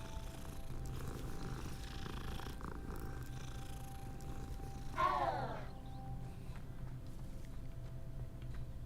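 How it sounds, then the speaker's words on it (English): A cat purrs steadily as it is petted in the video game Hogwarts Legacy. The low purr runs throughout, with a brief higher chirp partway through. "petting cats is pretty cool"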